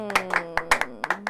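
A studio audience claps to vote in a debate, with a few loud, separate claps spread over a second, close by, over a steady low hum.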